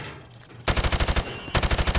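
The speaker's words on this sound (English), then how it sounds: "I want you to shoot the targets through the wood." Automatic gunfire rips through plywood targets in Call of Duty: Modern Warfare Remastered. After a short quiet stretch, two loud, close, rapid bursts of evenly spaced shots follow one another almost without a pause.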